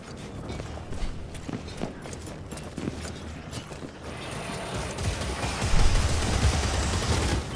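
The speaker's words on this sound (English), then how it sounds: "Oh, it's a Gatling." Rapid Gatling gun fire in Vermintide 2 clatters in dense mechanical bursts, starting scattered and building into a louder, sustained rattling barrage in the second half.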